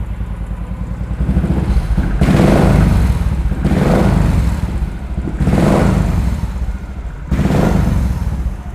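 A 500cc motorcycle exhaust revs up four times in a row, each blip swelling into a deep, loud bassy roar before dropping back to a steady idle, heard close and alone.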